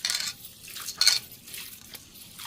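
Rice being rinsed in a pot, the first of three washes for Korean-style cooked rice: splashy water swishing with light grainy clinks against the pot, in several short bursts close by, no talking.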